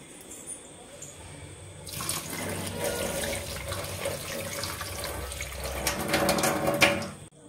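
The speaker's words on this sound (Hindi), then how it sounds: "तो इसका पानी हम गिरा लेते हैं" Soaking water is poured off swollen kabuli chickpeas in a home kitchen, a steady splashing gush into a sink that starts abruptly after a quiet moment and runs continuously, growing louder toward the end.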